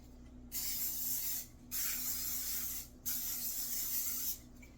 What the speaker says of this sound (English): I'm gonna give those a little spray.